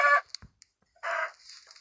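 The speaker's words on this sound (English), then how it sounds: "Chicken, go in there." Minecraft chickens clucking in the video game, two short bursts of blocky digital clucks close up with a brief gap between them, no talk over them.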